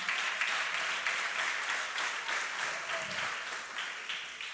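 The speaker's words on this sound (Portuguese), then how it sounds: "Desocupa as mãos e aplaude ao Senhor" A church congregation applauds during a worship service, with a fairly even wash of many hands clapping, slightly distant, continuing steadily with small pulses throughout.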